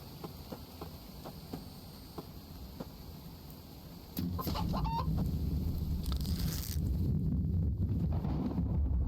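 Chickens in the survival video game The Infected cluck in short bursts over steady low game ambience, with a louder spell of clucking and noise midway through.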